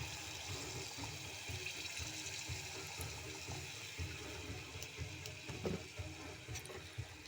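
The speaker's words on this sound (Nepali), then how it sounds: "म अब यसमा चाहिँ पानी हाल्दैछु, तातो पानी है" Hot water pours steadily into a cooking pan to be boiled for noodles, a continuous splashing wash with a few light clinks and clatters, close and moderately loud, with no one talking.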